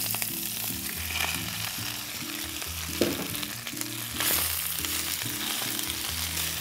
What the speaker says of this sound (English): we're gonna make some sauteed spinach that'll go inside the cheese mixture